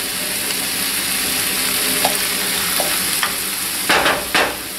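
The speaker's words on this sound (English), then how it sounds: "get the onions started a little bit before" Onions fry in butter substitute in a pan with a constant close hiss of sizzling, broken by a few light stirring taps and a couple of louder scraping stirs near the end.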